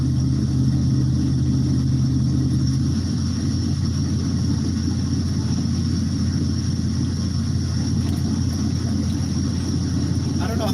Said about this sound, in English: this low growl coming from the truck, which sounds so good